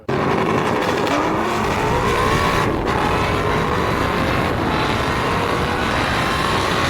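Kia Stinger and Hyundai Veloster racing side by side, engines roaring loudly and continuously up through the gears with rising whine, tires hissing on the road, no talk.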